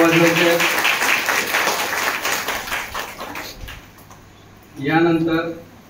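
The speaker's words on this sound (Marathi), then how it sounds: "सगळ्यांनी टाळ्या वाजवायच्या." Audience clapping at a birthday celebration at an Om Shanti centre, a burst of many hands clapping that fades out midway, with a voice speaking over the start and again near the end.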